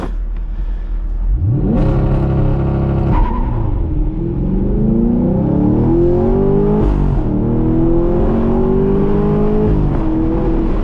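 Chevrolet Camaro LT1 launching hard with traction control off, engine revving up sharply then pulling through rising gears with a loud, near exhaust roar and a shift break, continuing strong to the end.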